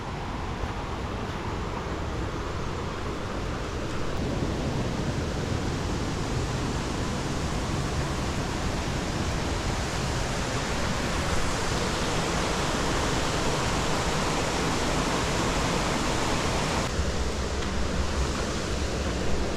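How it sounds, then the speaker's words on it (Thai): The fifth tier of the Chet Sao Noi waterfall roars in a loud, dense, unbroken rush of falling water, close by and steady, with no voices. "อันนี้เป็นน้ำตกชั้นที่ห้านะครับ"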